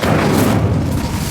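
A fire spell is cast in the video game Hogwarts Legacy, giving a short, loud, deep boom with a thudding, explosive body that holds steady for about a second.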